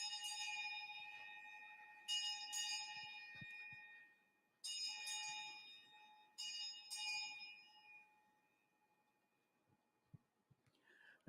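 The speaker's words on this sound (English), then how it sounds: "we ring the bell 8 times, and this is done internationally to signify the commencement of watch" A ceremonial bell struck at the opening of a youth parliament sitting to mark the commencement of watch, its clear ringing tones arriving in spaced pairs with long resonant decay in a quiet hall.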